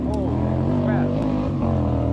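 A loud vehicle with almost no exhaust muffling roars past on a city street during a street art festival bike tour, a sustained low rumble with shifting engine tones, close by, with voices talking over it.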